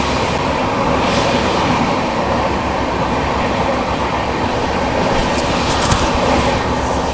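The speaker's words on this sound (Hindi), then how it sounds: "ये कोई स्पेशल ट्रेन जा रही है" A special train rumbles steadily past on the Indian railway, a close, continuous roar of wheels and rolling wagons with faint clickety-clack, no voices over it.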